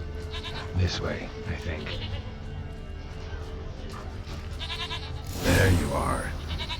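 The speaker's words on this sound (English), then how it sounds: "Here, goat. Here, princess. This way. Hoofed and horned." A goat bleats a couple of times in the video game The Witcher 3, short calls rising over a steady game ambience while someone talks throughout.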